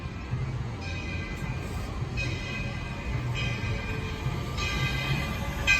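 Walt Disney World Railroad steam locomotive No. 4, the Roy O. Disney, pulling in with a low steady rumble and rolling wheel noise, repeated bright metallic squeals and hiss rising over it.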